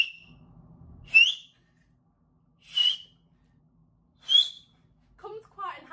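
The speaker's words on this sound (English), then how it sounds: "So I can whistle with every finger." Three sharp, loud finger whistles, each a brief rising tone separated by pauses, followed by a short burst of voice at the end.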